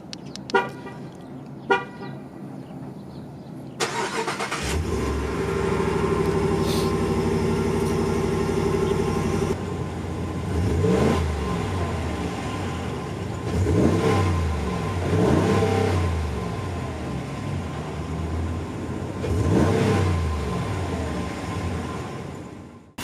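A 2019 Ram Rebel pickup with a 5.7 Hemi V8 and Vararam Air Grabber intake starts up, then revs repeatedly in several loud, rising surges over a steady, throaty idle.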